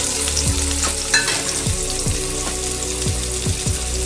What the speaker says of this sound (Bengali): ওই তেলে পেঁয়াজটা ভাজছি।